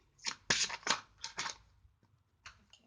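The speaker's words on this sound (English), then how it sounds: "I'm shuffling." Tarot cards are shuffled by hand in a series of quick riffling bursts, close and crisp, with short pauses between them and a final softer riffle.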